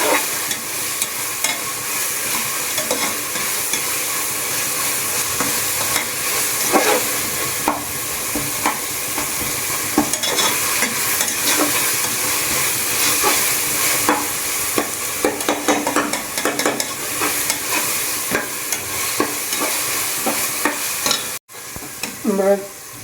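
Food sizzles and fries in a pressure cooker pan while being stirred steadily, with scraping clatter, a mixture heavy with tomato; the sizzle stays loud and continuous throughout, briefly cutting out near the end.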